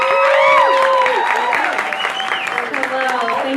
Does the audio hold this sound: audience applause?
yes